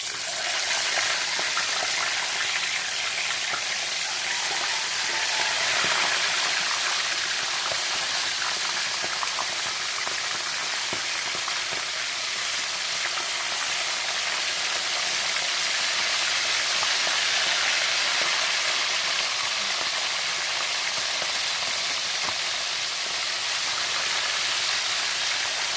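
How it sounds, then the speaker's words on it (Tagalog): Salted fish fries in hot cooking oil with a loud, unbroken crackling sizzle that holds steady and close throughout, with no talking. "Magprito na tayo kasi mainit na talaga yung ating mantika."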